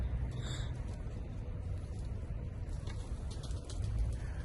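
Street pigeons cooing outdoors, a soft steady coo repeating near the mic over continuous low outdoor rumble and faint wind, with no voices.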